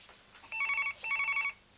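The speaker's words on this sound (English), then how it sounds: "phone's ringing" A landline telephone rings in a domestic British setting, two electronic trilling bursts close by, separated by a short pause, with no one speaking over them.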